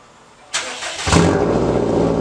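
A Subaru STI with a straight-piped exhaust cranks and fires up. A short starter whirr gives way to a loud, deep engine roar that settles into a steady rumble close by.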